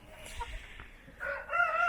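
A large rooster in a backyard coop among a mixed flock crows near the end, following soft clucks and scratching noises from the birds.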